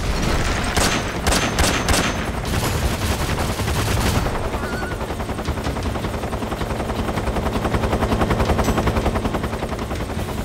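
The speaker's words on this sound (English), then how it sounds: "if you shoot at someone at the base, it will go into an alert, and they will send a helicopter out to kill you" In the Metal Gear Solid 3 video game, rapid bursts of gunfire are followed by a chopping helicopter rotor sent to attack the player at an enemy base, loud and close, with the rotor pulsing on after the shooting stops.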